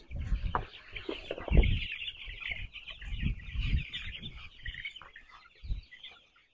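Farm-raised chicks peep and cluck continuously close by, with shrill high chirps layered over bursts of lower clucking and some rustling.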